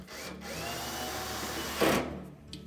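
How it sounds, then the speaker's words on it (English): A screwdriver drives two machine screws into the housing below the lint filter of an LG dryer, giving a faint, close, continuous whirring buzz with a brief louder clatter near the end. "next we'll put the 2 machine screws in through to the housing below the lint filter."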